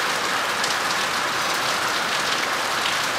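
Steady rain falling, a dense even hiss of drops that stays close and loud throughout without pause.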